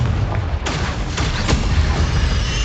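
A Confringo explosive spell going off in Hogwarts Legacy, a couple of muffled booming thuds heard over a loud, dense game soundscape, with no talking.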